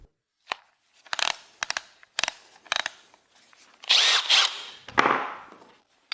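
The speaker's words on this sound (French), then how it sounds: "si vous allez percer un trou" A cordless drill whirs in several short bursts, then runs in two longer pulls as it drills a hole, close up in a quiet room.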